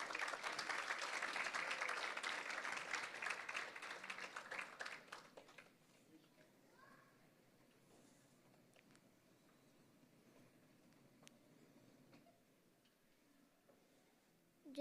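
Audience applause fills a cultural program hall on Das Lakshana day, dense steady clapping for about five seconds before fading to a quiet murmuring room.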